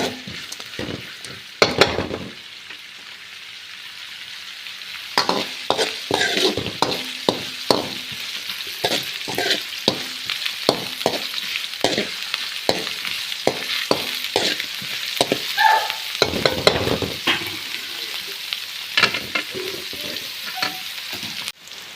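Chopped onions sizzle in hot oil while a utensil stirs and scrapes the pan in repeated short strokes, close and steady over a constant frying hiss.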